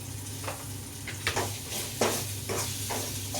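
Chili powder, coriander powder, cumin and garam masala sautéed in a pan, a steady close sizzle with rhythmic stirring scrapes about every half second.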